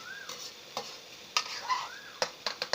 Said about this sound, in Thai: เคี่ยวให้ น้ำมันงวดเล็กน้อยนะครับ ให้น้ำมันงวดเล็กน้อย นะครับเคี่ยวลงไป